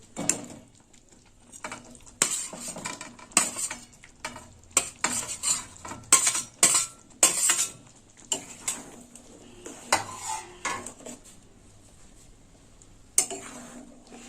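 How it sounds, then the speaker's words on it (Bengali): Fried paneer added to a pan of spiced masala and stirred, with a spoon scraping and clattering against the metal in irregular bursts over a faint sizzle. "এবার ভেজে রাখা পনিরগুলো দিয়ে দেবো"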